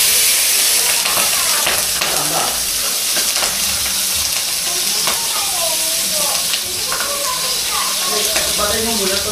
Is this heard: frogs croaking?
no